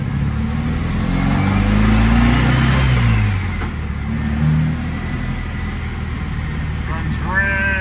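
A 1967 Volkswagen Beetle engine runs with a mid-pitched hum that swells as it revs and then settles, heard under someone talking.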